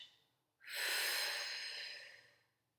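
A single forceful exhale through the nose or mouth during a Pilates twist exercise, close and clear, a short rushing breath rising quickly and fading over about two seconds in a quiet room.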